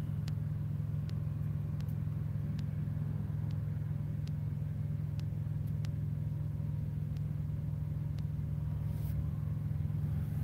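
An old truck with a Series 60 engine runs steadily nearby. It gives a deep, continuous low rumble with faint, evenly spaced ticks over it and no talking.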